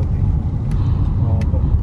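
A large truck passes on a city road beside a park, a loud, steady low rumble filling the whole moment with traffic hum underneath.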